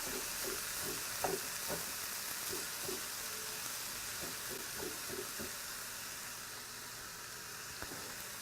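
Pork and cauliflower fried rice cooks in a pan with a faint, steady sizzle, and soft clicks and scrapes of stirring come at irregular intervals.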